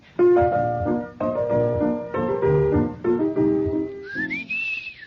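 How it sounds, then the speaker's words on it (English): A bright whistled waltz melody in short phrases, close and clear, with a sustained high whistle at the end. "I didn't sing it. I whistled it."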